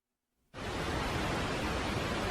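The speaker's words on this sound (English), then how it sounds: "White noise, but it's more compressed. And more easy on the ears." Sonified space recording of Hydra, heard as compressed white noise: silence, then an abrupt onset of a steady, dense static hiss that holds constant and loud to the end.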